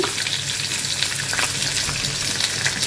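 Garlic, coconut and green chillies fry in hot oil for an egg curry, giving a steady, loud, close sizzle throughout with a few brief crackles.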